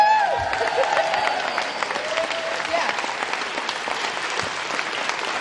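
Applause fills a political talk event with dense, steady clapping from a large audience that holds at a fairly even level for several seconds, with crowd noise mixed in.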